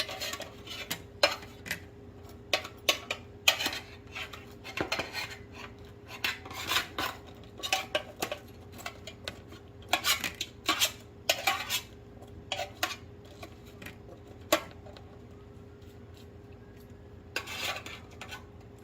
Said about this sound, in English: I have to get the fries out of the oven for you